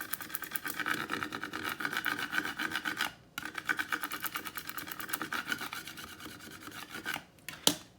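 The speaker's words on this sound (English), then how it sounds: "You could use your fingers to rub it on, or you could take your scraper tool." A scraper tool rubs a vinyl pantry label onto a surface in quick back-and-forth strokes, producing a close, faint rasping. A short pause falls midway, then more rubbing, ending with a small tap.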